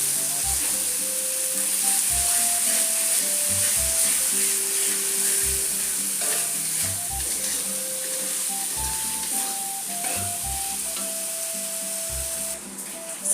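Bay leaves, bruised lemongrass, galangal and ginger fry in a pan for a tilapia pesmol, with a steady loud sizzle, rhythmic stirring thumps and a tonal hum running throughout.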